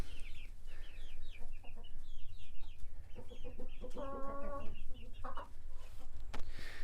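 Chickens clucking in a backyard coop, with repeated short clucks and chirps from several birds, fairly close and steady throughout and no talking over them.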